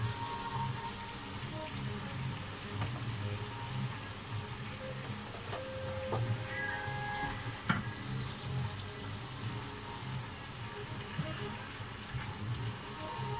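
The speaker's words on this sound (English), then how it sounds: "now I'm going to put the beef in." Beef sizzling in a pan with onions and mushrooms for lo mein, a loud continuous crackling fry that hisses like rain, with a few faint clinks and scrapes over it.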